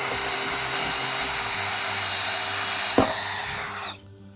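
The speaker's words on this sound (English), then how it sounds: "All right, let's put this drill bit through," A RIDGID R87012 subcompact cordless drill/driver spins a bit through material with a steady high motor whine, close and loud, then cuts off abruptly near the end.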